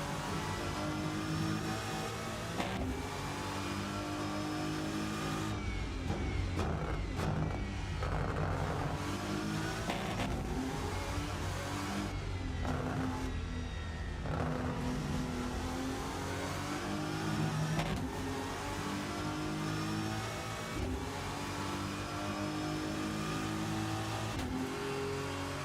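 Rennsport Porsche race car engine revving continuously in the Rennsport racing game, a loud sustained engine drone with shifting pitch and occasional tire squeal throughout, no talking.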